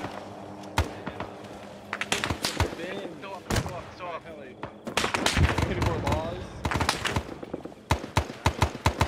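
A tank firing at a tower during an Arma 3 mission, with sharp blasts and cracks of gunfire ringing out repeatedly and loudly, mixed with other battle noise and people talking over it.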